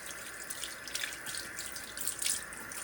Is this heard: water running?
yes